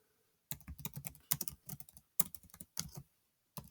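A command being typed on a computer keyboard, close, crisp key clicks in quick uneven bursts, with short silent pauses between groups of strokes.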